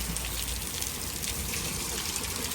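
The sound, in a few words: very heavy rain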